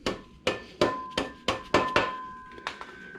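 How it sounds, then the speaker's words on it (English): Hammer striking the front wheel axle of a Harley-Davidson Sportster: about eight sharp metallic blows in uneven succession, close and clear, each with a brief ringing tone that fades before the next. "now we just need to hit the axle with the hammer"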